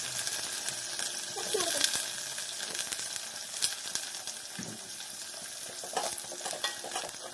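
Washed potatoes and eggplant fry in a pan with onions, a soft steady sizzle with occasional stirring clatters, fairly quiet and close.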